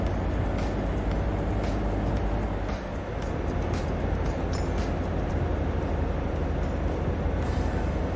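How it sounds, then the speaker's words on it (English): A truck engine in the Alaskan Truck Simulator video game, driving through a blizzard with wipers and heater running, gives a steady, loud, broadband rumble throughout, with a brief dip near the middle and no talk. "Truck sounds great."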